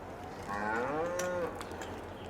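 A single cow from Farming Simulator 22 gives one drawn-out moo with a falling tone, fairly faint and set in a snowy, windy farmyard with no talking.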